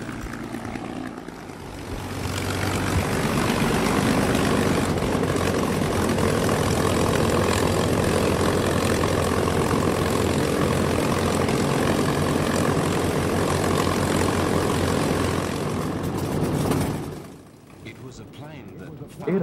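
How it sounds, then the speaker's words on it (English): A P-51 Mustang piston-engine propeller fighter drones steadily and loudly for most of the stretch, a sustained engine roar that fades out near the end, with narration talking over it. "el avión que quizás representa el mayor refinamiento de ese diseño es el P-51 Mustang"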